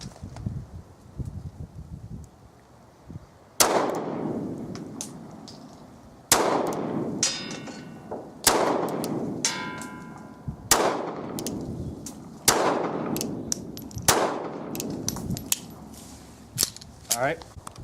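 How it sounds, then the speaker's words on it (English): Several sharp, loud gunshots from a Ruger LCP .380 pistol, first generation, second generation and custom versions, fired one at a time at irregular intervals of a few seconds, each with a short ringing decay, close by at an outdoor range. "now we're going to start shooting the Ruger LCP"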